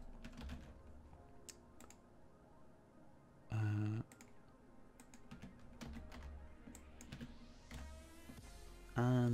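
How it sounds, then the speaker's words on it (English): Keys clicking as an IP address is typed on a computer keyboard, scattered taps close and fairly quiet, broken by two louder tonal bursts from another source. "So you just want to type that in."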